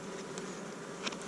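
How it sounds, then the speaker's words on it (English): Honey bees at an open hive hum in a dense, steady drone close by, with a few brief louder buzzes as individual bees pass near. "Nice and calm bees, these."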